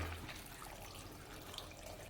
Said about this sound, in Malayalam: ഇതാ ഇതുപോലെ നേർക്ക് വെള്ളം ഒഴിച്ച് ഒന്ന് ഇളക്കി യോജിപ്പിക്കാം